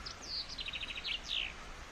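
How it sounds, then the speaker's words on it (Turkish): A small bird sings a quick, high trill of rapid repeated notes followed by a couple of sweeping whistles, fairly close over quiet outdoor background at Sarımsaklı Reservoir campsite in Kayseri, Turkey. "Kuş sesini de duyuyorsunuz umarım."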